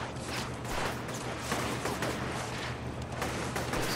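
Enemy gunfire in inFamous rattles steadily throughout, a continuous run of mid-distance shots layered over a low game rumble, with no talk.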